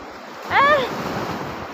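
Sea waves wash steadily onto the beach at Calaguas Island in the morning, a continuous surf hiss with wind. A short vocal sound rises over the wash midway.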